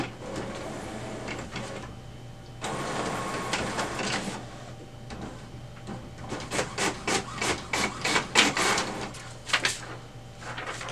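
HP OfficeJet Pro 8210 printer printing a status report, a steady mechanical whir, then a run of rhythmic feeding and printhead passes building in loudness, all without talk.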